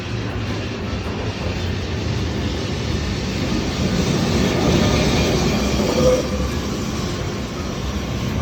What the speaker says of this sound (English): You could also see the famous 28 tram there as well.